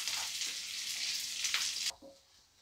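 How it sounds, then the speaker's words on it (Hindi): Onions hit hot oil with browned mustard seeds for masala dosa filling, producing a loud hissing sizzle that cuts off abruptly near the end, leaving quiet. "अब इसके अंदर हम प्याज ऐड कर देते हैं"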